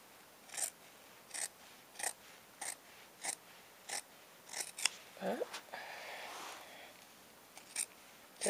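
Scissors cutting fabric for a circle skirt, a series of crisp, close snips in a steady rhythm, with a brief rustle of cloth partway through.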